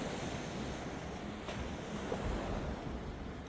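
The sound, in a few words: ocean waves at a beach on Nusa Lembongan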